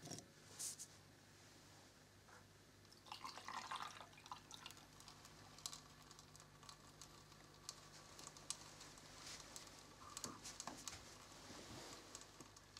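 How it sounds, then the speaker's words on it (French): Water trickles by gravity through a homemade fountain built from bottles and a basin, a faint steady pattering and dripping with small splashes, quiet and close. "L'eau de la vasque coule par gravité jusque dans la bouteille inférieure."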